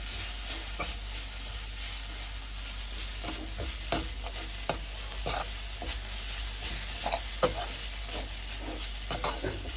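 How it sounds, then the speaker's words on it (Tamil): Grated coconut is stirred into a mixture frying in a pan, giving a constant close sizzle with repeated scrapes and knocks of the spoon at an uneven rhythm. "தேங்காய் பூவை போட்டு நல்லா மிக்ஸ் பண்ணிடுவோம்"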